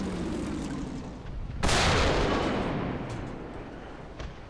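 A Centurion Mk10 tank's main gun fires in War Thunder, one loud sudden boom that rolls off into a long fading rumble over steady engine and battle noise.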